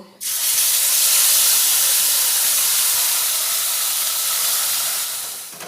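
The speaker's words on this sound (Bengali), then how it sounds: "এবার ওই পেস্টটি গরম তেলে দিয়ে দেব" Onion, ginger and garlic paste hits hot oil for a lau chingri dish and sets off a sudden, loud, broad hiss that holds steady for several seconds before easing off, close up and with no talking.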